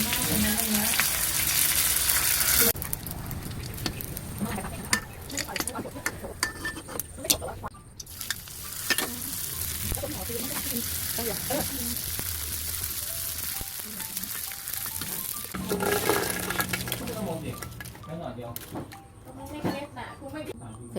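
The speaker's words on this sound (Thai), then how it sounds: "พอผึ่งแห้งดีแล้วแล้วเราไปทอดกันค่ะ" Sheets of Korean seaweed fry in hot oil, giving a crackling sizzle with occasional clinks of utensils against the pan and a voice talking over parts of it.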